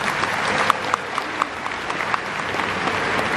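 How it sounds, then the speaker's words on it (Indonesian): An audience at an Indonesian church gathering claps warmly, a dense, steady patter of hands with a few sharper claps, sustained and fairly loud throughout with no one talking over it. "Tepuk tangan untuk para bapak."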